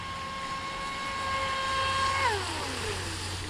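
A Traxxas Disruptor RC boat runs on water, its high electric motor whine holding steady, then dropping sharply in pitch as it slows, over a low background hum.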